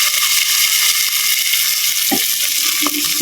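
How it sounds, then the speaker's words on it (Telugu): Dried red chilies, cumin and mustard seeds crackle in hot oil, a steady loud sizzle throughout with a couple of sharper pops and spatters near the end. "ఆయిల్ వేడైంది కదా, ఎండి మిరపకాయలు వేసాను, జీలకర్ర, ఆవాలు"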